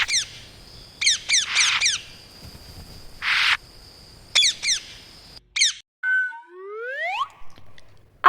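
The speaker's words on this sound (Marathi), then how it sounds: "पॅरोट म्हणजे पोपट." A green parrot gives a run of sharp, harsh squawks in quick bursts, followed by rising whistled calls, close and loud with brief gaps between.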